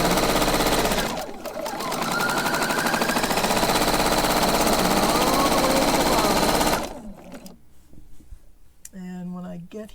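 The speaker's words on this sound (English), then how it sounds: "Alternatively, what you can do is run a zigzag stitch, and I think I might do that." A sewing machine runs a zigzag stitch on fabric for an envelope pillow cover, a loud, steady mechanical whirr lasting several seconds before stopping abruptly, followed by a voice speaking.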